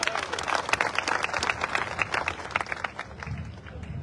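Audience applause at a political rally in Karakat, a dense wash of clapping from a large outdoor crowd that carries on steadily, with voices murmuring underneath and thinning toward the end.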